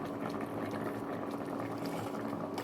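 Pear jam with fruit and sugar boils in a pot on the stove, a dense, steady bubbling and popping that stays close and fairly quiet throughout, with no voices.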